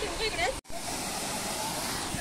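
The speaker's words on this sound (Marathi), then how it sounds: "माझ्या मागेच बघू शकतात कसा पाणी वाहतोय" Rushing water of the Surya River near Surya Dam in Palghar roars steadily close by, a broad constant wash; a voice is heard briefly at the start before a short break.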